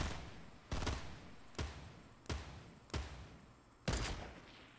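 Rapid bursts of gunfire from the video game Fortnite, five sharp volleys spaced about a second apart, loud and close, each decaying quickly into low background noise with no talk over them.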